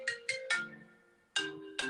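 A phone ringtone rings in repeated electronic bursts, several short chimes followed by a sustained tone and two more bursts, clear and close with no talk.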